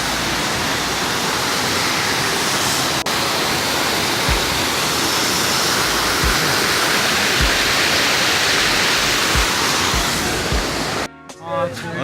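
A waterfall at the Saint Louis Zoo's River's Edge area roars as a loud, steady broadband rush of falling water close by, a voice briefly breaking in at the end.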